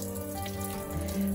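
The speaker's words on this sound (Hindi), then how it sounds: "नलके का ही पानी मैंने डाल दिया है" Tap water runs steadily into a kitchen vessel, a continuous close splashing pour while paneer is prepared.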